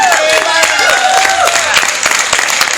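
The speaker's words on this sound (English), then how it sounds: "Let's have a big round of applause for Byron Ballard." A crowd applauds steadily, dense clapping filling the space, with whistles and voices mixed in and a brief vocal cheer sliding over the top.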